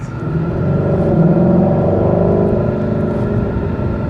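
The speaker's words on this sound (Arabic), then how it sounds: "خلونا نجرب قياده هلا الجي تي 350." Ford Mustang Shelby GT350 V8 engine heard while driving, a loud, steady low rumble that swells slightly under light acceleration and then holds an even drone, with no talking.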